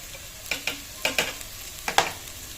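A spoon scrapes and taps against a pan of frying anchovies (dilis) in a few sharp, separate strokes over a soft, steady sizzle, close and fairly quiet.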